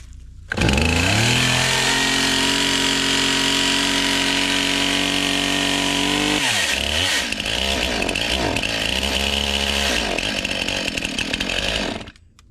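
A STIHL chainsaw engine runs on half choke, starting up with a loud, steady high whine for several seconds, then turning rougher and uneven before cutting off at the end.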